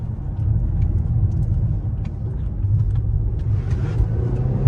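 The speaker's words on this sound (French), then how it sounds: "C'est assez silencieux, il n'y a pas de grosse sonorité, à part sur les premiers rapports." Volvo S60 Polestar sedan accelerating, a steady low engine and road rumble heard from inside, fairly subdued with no loud exhaust note, holding even throughout.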